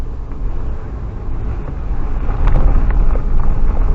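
A Suzuki Jimny climbing a steep road in Jamaica in low gear, its engine a steady low rumble that builds slightly louder toward the end, mixed with wind buffeting and road noise, with no talking.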